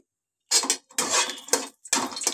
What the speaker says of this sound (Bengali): দেখো শুকনো লঙ্কাগুলো আমি এক্ষুনি নেড়ে নিচ্ছি